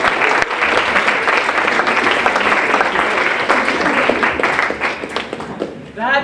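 A university lecture audience applauds a guest lecturer with loud, dense, sustained clapping that fades toward the end, where a voice begins speaking.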